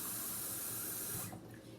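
Water pours from a can into a crock pot as a steady rushing splash that stops abruptly near the end, close and fairly loud, with no talking.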